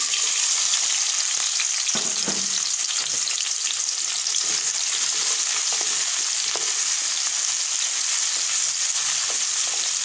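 Onion and garlic frying in hot oil, a loud, constant close sizzle with soft crackles and occasional faint stirring sounds throughout.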